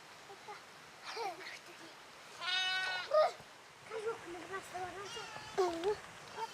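Several sheep bleat in short wavering calls across open pasture in Tashkurgan County, China, some near and some farther off, with faint background noise between them.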